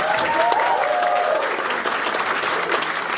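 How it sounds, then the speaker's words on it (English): Steady audience applause at a furry convention closing ceremony, many hands clapping continuously at an even level with a brief vocal tone near the start. "So a big round of applause to them."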